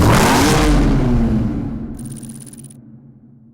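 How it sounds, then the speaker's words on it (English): A Jaguar XK's 5-litre supercharged V8 engine roars loudly at first, then the revving fades and settles into a lower, receding rumble with a faint high whine near the end. "Powered by Jaguar's 5-liter supercharged V8 engine, it is the finest expression of XK power and performance."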